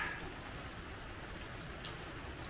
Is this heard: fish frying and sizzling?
no